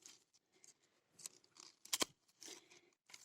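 Pruning shears snip through dry twigs in a few crisp, close cuts, with one sharp loud snap standing out among softer clicks and no talking.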